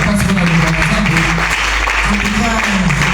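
A church congregation applauds and cheers continuously, loud and close, while a preacher's voice speaks over the clapping.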